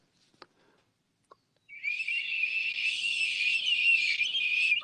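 A man whistles a long, high, steady tone in imitation of a dog whistle, holding it for about three seconds after a couple of faint clicks, loud and close with no talking over it.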